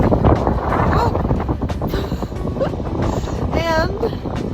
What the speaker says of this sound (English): the wind is so crazy that sometimes I have to stop and brace myself